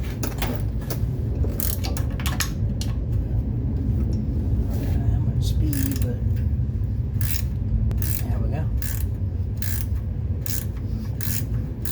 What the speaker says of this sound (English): Gotta use the double wrench method on this one, because it's a little tight.